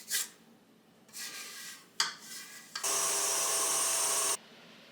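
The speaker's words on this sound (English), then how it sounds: "Scrape the sides down." A spatula scrapes down the sides of a mixing bowl of cake batter. Several short, close scraping strokes are followed by one longer, sustained scrape, with quiet pauses between them.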